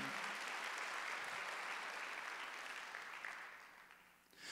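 A church congregation at a Korean Sunday worship service gives a sustained round of applause, a dense steady wash of many hands that thins and fades near the end.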